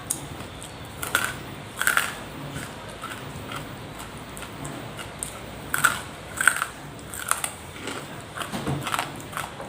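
Crunchy baked vegetable chips are bitten and chewed nearby in short, crisp crunching bursts separated by quiet pauses, fairly faint overall.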